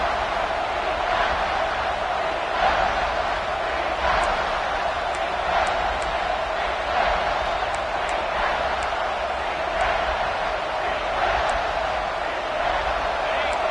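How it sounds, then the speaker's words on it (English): A college football stadium crowd roars steadily behind the home defense in the red zone during a game against Ole Miss, a sustained distant wall of noise with a voice talking over it. "The crowd getting behind this defense as they try to get a stop in the red zone."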